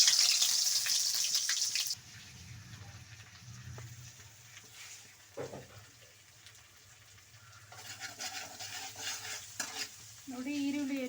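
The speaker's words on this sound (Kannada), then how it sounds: "ಈರುಳ್ಳಿ, ಬೆಳ್ಳುಳ್ಳಿ ಶುಂಠಿ ಎಣ್ಣೆಗೆ ಹಾಕೊಳ್ಳಿ." Onion and ginger-garlic paste dropped into hot oil for a Mysore-style brinjal gravy: a bright hiss at first, then a softer crackling sizzle broken by stirring scrapes, with the frying growing louder again toward the end.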